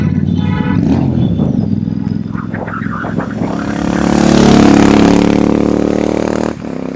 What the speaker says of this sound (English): that exhaust note bouncing off the walls makes up for it in every way possible